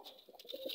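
Soft, low cooing of a golden pigeon, a few short murmured notes close by and fairly quiet.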